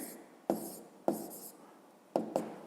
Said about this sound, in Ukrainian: Нічого, пишемо відповідь.